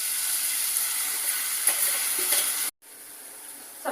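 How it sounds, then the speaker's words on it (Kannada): Vegetables with onion, tomato, peas, carrot and beans frying in ground masala in a pan, a steady close sizzle with faint stirring, broken by a brief silence near the end before a quieter hiss resumes. "ಈರುಳ್ಳಿ ಟೊಮೊಟೊ ಫ್ರೈ ಆಗಿದೆ. ಆಮೇಲೆ ಬಟಾಣಿ, ಕ್ಯಾರೆಟು, ಬೀನ್ಸು ಹಾಕ್ತಾರೆ."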